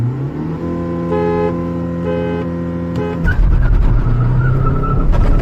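Hyundai Verna and Volkswagen Vento in a drag race: a steady engine tone holds, then the sound shifts abruptly into a loud, broadband roar of hard acceleration close by.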